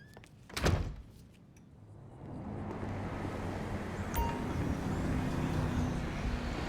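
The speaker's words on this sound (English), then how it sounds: "Close the door on your way out." A single solid door thud lands early in Grand Theft Auto V, followed by a steadily building low ambient rumble with no talking.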